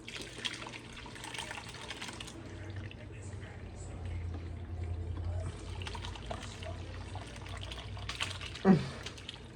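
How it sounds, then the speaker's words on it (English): Whey is poured off cheese curds, a soft trickling, splashing flow of liquid running in stretches, with a person talking over it and a small clink near the end. "So now we are fixing to pour up the whey."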